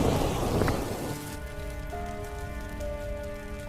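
Heavy rain pours down in a dense, continuous roar, with soft sustained musical tones rising beneath it after the first second.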